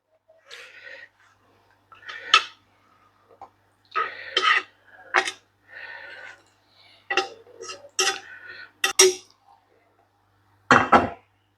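Scattered clinks and scrapes of utensils against a plate as crispy fried eggplant is transferred, in short irregular bursts separated by quiet pauses.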